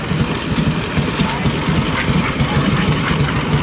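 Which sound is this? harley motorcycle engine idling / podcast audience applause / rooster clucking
harley motorcycle engine idling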